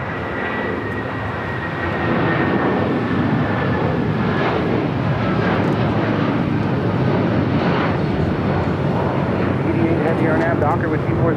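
An airliner bound for Honolulu roars down the runway on takeoff at LAX, a broad, steady engine rumble that swells after a couple of seconds and holds loud throughout, with voices talking over it.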